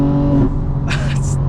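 A 2025 BMW M4 Competition xDrive pulls away in all-wheel drive with a loud, close engine drone that rises in pitch, overlaid with brief higher bursts, as a voice speaks over it.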